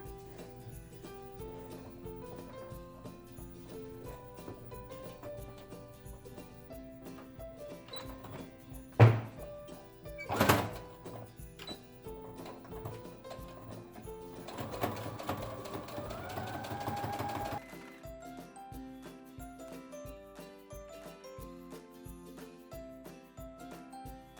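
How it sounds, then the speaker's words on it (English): A sewing machine top-stitches around a fabric face mask, a short whirring run heard under steady background music, with a couple of sharp knocks before it. "I'm going to go in top stitch now just around the whole top and the bottom"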